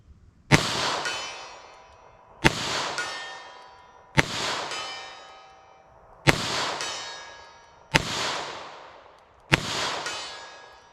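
Six loud .32 S&W Long gunshots at a ballistic test, fired one at a time at a steady pace about every one and a half seconds, each a sharp crack with a ringing, metallic tail.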